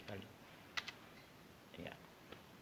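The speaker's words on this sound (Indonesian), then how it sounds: "kita tekan enter lagi sekali" A computer keyboard's Enter key is pressed in a quiet room while a PC is being serviced. Faint, close clicks arrive in small bunches, the sharpest double tap near the middle and softer taps after it, with a low voice briefly audible.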